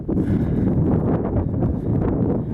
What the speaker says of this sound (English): It just got windy.